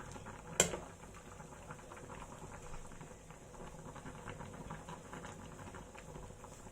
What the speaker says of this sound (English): it's starting to boil nicely